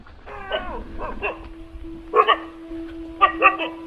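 Annoyed dogs bark outside near a temple in a residential area of India, with whimpers and yips followed by two sharp bursts of barking, fairly close, over a steady background tone.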